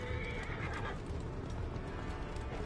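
A horse neighs and whinnies while hooves clip-clop in Assassin's Creed Origins, played on a PS4 Pro, heard up close with a steady ambient bed behind it.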